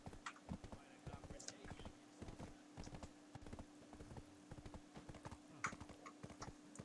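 Horse hooves gallop fast and steadily in Black Desert Online, a continuous clip-clop rhythm over a constant low hum, with an occasional brighter clatter.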